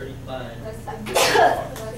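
A single sharp sneeze bursts out close by in a lecture, right after a brief spoken word.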